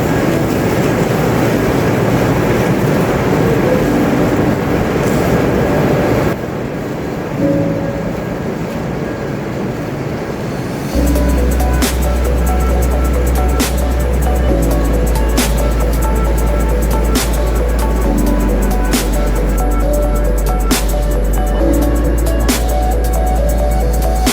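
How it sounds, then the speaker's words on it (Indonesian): Inside a moving Shinkansen bullet train from Hokkaido to Aomori, a loud, steady rumbling hum with a deep low drone and regular clicking beats as the ride continues. "Sekarang kita akan naik kereta Shinkansen."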